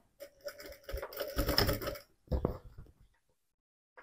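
A sewing machine stitches a seam on a plush teddy bear backpack in quick clattering bursts, running about two seconds, pausing briefly, then running again for a short stretch before stopping, close and clear with no talking.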